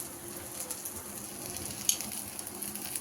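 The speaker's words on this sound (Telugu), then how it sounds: "ఇలా మంచిగా గోల్డెన్ బ్రౌన్గా వచ్చేటప్పుడు, ఇలా ఫ్రై అవుతున్నప్పుడు" Egg dosa frying in plenty of oil in a pan, a steady bright sizzle with small crackles and pops, close and continuous with no talking.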